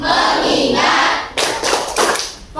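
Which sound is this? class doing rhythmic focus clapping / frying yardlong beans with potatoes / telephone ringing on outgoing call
class doing rhythmic focus clapping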